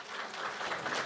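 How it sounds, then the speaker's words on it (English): A brief burst of audience applause, soft and somewhat distant, with a dense wash of clapping lasting about a second at a virtual panel event. "Can we have a round of applause for them?"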